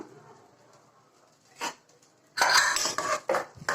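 A pressure cooker of cooked pongal is opened with metallic clanks and clatter of the lid and pot, a brief knock first, then a louder cluster of close metal scraping and rattling.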